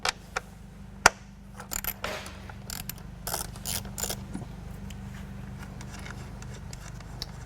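A ratchet and metal tool click and rattle against the engine of a 2014-2015 Ford Fiesta ST while a nut holding the factory intake tube is loosened, with sharp clacks followed by a run of quick ratcheting clicks, close and moderately loud.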